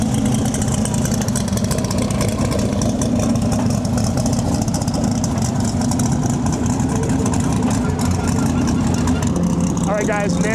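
A stick shift drag car rumbles and idles steadily as it pulls up to the start line at a World Cup Finals event, a constant low engine drone with crowd and PA noise, with a brief rev near the end.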